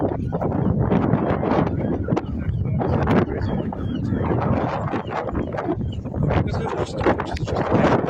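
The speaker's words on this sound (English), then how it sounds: "It's always windy here." Strong seaside wind in Dun Laoghaire buffets the microphone in continuous loud gusts, a roaring rush with no clear voices.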